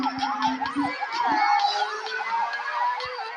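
A police car siren wails in a rapid repeating up-and-down pattern close by during a motorcycle ride, loud and continuous, with a few sharp knocks and rumbling traffic beneath.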